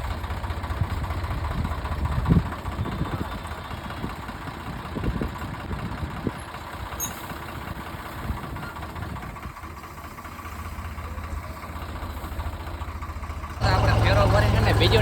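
A tractor engine idles while a trolley is loaded with soil in a village field, giving a steady low rumble with scattered thuds of dumped earth. The engine grows louder near the end.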